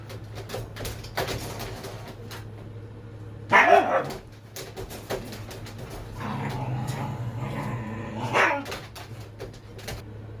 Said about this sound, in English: I paused so I could get the dogs to settle down a little bit